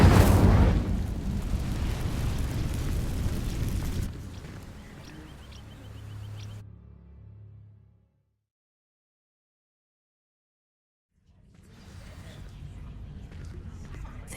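Incendio fire spell in Hogwarts Legacy going off in a loud, rushing burst at the start, fading into a softer crackling hiss before dropping to silence, then a low rumble returns.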